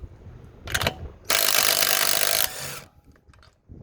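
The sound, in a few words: Metabo impact driver at 150 foot-pounds setting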